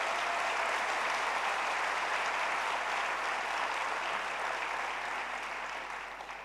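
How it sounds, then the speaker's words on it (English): Dense, sustained applause from a large conference audience, steady and loud throughout before tapering slightly at the end, with no speech over it. "So please give a big round of applause to Sunny, Vikas, and the entire GSF team"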